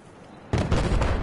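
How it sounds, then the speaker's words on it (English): Grenade blasts in Battlefield 4 erupt suddenly after a quiet moment, a loud close boom followed by rumbling, crackling explosion noise that stays heavy to the end. "they're trying to throw grenades up here"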